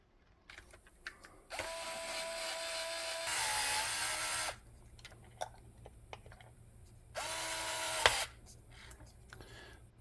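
A power driver runs screws into the motor mount of a Ridge Racer U4 radio-control car in two whirring bursts of a few seconds each, with a rising whine and stall at the end, and quiet handling clicks between them.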